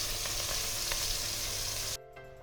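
Small mourala fish sizzle steadily in hot oil for a Bengali curry with potato and eggplant, a loud, even crackle that stops abruptly near the end.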